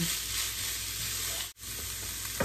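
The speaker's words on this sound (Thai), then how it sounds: "ค่อยๆผัดไปเรื่อยๆเดี๋ยวน้ำมันเขาก็ออกมาเอง" Minced pork stir-frying in oil over low heat for a Thai larb stir-fry makes a close, continuous sizzle with soft scraping, briefly dropping out for an instant midway before resuming.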